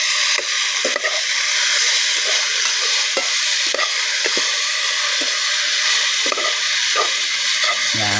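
Small dried fish (tuyo) and other food fry in a pan while being stirred, a loud continuous sizzle and hiss with repeated scraping stirs of the utensil against the pan.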